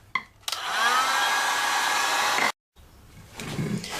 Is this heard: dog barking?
no